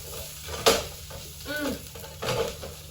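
A tofu sofritas mixture is stirred in a pan for a copycat Chipotle bowl. A few sharp scrapes and clinks of the utensil sit over a faint, low sizzle.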